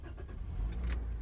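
A car parked in hot weather being switched on, with a low engine rumble that rises and steadies after a brief cranking burst, close and fairly quiet.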